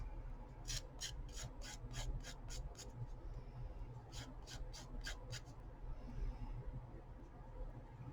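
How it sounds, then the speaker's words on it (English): A nail file trims the edge of a paper charm with quick, rhythmic rasping strokes in two runs, faint and close against a low steady background hum. "I use my nail file to just trim it off."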